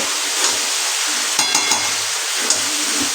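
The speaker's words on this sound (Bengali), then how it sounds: "এতে ভেজে নেব আলুটা, দিয়ে দেবো লবণ, দিয়ে দেবো হলুদ।" Potatoes frying in oil with salt and turmeric, stirred in the pan: a bright, steady sizzle punctuated by several sharp spatula clinks and scrapes, close and without speech.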